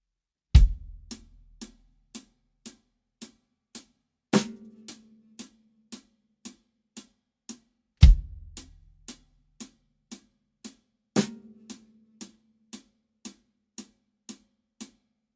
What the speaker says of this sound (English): trading off between the kick and the snare while the hi-hat moves and you never stop